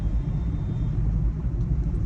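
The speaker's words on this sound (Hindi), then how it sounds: "अभी फिलहाल हमारी गाड़ी चल रही है CNG में" A 2024 Maruti Eeco running on CNG cruises along a highway near Vadodara, heard from inside as a loud, steady low road and engine rumble with no voices.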